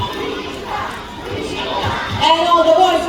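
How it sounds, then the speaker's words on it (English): A crowd of girls cheers at a bird show at an ocean park, a loud mass of shouting young voices that swells and peaks toward the end. "All the girls will cheer for Eureka"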